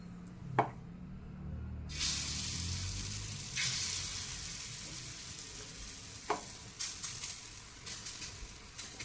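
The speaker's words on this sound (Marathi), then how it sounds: "आता मी यामध्ये वड्या टाकणार" Gram flour vadis sizzle steadily in a hot pan after a quiet start, a loud continuous frying hiss with occasional crackles and pops.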